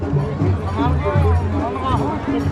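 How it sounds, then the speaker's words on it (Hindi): A dense crowd mills around at the Nanda Devi fair at the Saneti temple. Many nearby voices blend into a loud, continuous babble with no pauses. "काफ़ी ज़्यादा भीड़ है यहाँ पे"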